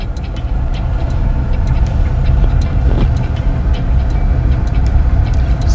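Car travelling along a bumpy rural road in Cornwall, St. Elizabeth, Jamaica, with a steady, loud engine and road rumble throughout, no speech.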